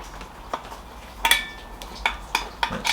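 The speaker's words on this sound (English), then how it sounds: "You've got the stainless steel mess kit pan" An old army-style stainless steel mess kit pan handled up close, giving a series of sharp metallic clinks and ringing taps, about half a dozen scattered over a few seconds against a quiet background.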